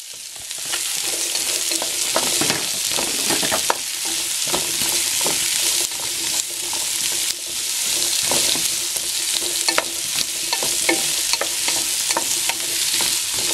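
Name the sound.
stir-frying mushrooms and carrots for chopsuey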